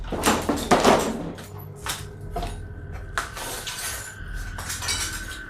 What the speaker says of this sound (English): more glass breaks